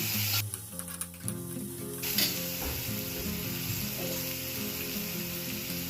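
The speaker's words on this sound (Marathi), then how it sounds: "हलक्या गुलाबी रंगावर येईपर्यंत कांदा तळायचा आहे" Chopped onion fries in a ladle of oil in a pan, a steady broad sizzle that stays continuous throughout, close and fairly loud, with clanking tones and a melodic background hum layered over it.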